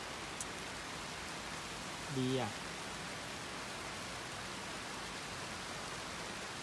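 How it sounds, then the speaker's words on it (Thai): Rain falling in the Chiang Mai mountains at Doi Inthanon, a dense, even hiss of steady rainfall with a brief voice speaking once partway through. "บรรยากาศตอนนี้ดีมากเลยฝนตกดูดิ"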